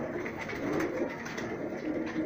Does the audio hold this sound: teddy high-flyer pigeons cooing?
yes